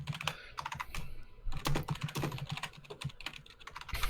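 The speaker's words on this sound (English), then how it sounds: "I can hear you typing." Rapid typing on a computer keyboard, close and clear, with irregular clusters of key clicks and louder strokes over a steady four seconds, no voices.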